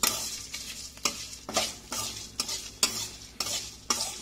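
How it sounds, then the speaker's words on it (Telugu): Dried red chillies frying in a pan with urad dal, chana dal and cumin seeds, a steady sizzle broken by regular scraping strokes of a spoon stirring about twice a second, close and without talk. "ఇప్పుడు ఇందులోనే ఎండుమిరపకాయలు వేసుకోవాలి. వేసుకొని కొంచెం లైట్గా వేయించుకోవాలి."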